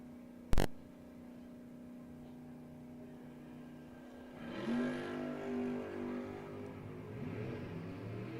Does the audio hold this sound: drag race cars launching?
yes